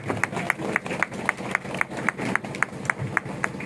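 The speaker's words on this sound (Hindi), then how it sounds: "ऐसे विधायक जी को बहुत बहुत तालियों के साथ स्वागत होना चाहिए" An audience at a community distribution event for blankets and school books claps to welcome the local MLA, striking steady, rhythmic claps in unison at a brisk, even pace, moderately loud over a low crowd murmur.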